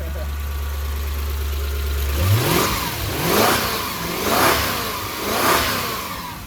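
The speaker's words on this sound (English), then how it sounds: "Smooth motor" A Toyota Soarer engine, said to have a misfire, idles with a low hum and is then revved four times in even, rising and falling bursts. A voice can be heard under the engine.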